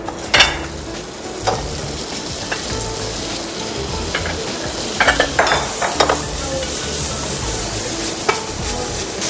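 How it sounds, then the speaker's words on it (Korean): Aged beef stir-fries in about half a teaspoon of cooking oil, making a loud, close, continuous sizzle punctuated by sharp scrapes and knocks of the spatula against the pan. "식용유는 2분의 1 작은 술 정도만 넣어서 쇠고기를 볶아주도록 하겠습니다."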